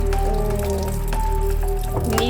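Water rushes steadily into a repaired washing machine, a loud continuous spray and splash with a steady motor hum underneath and no speech.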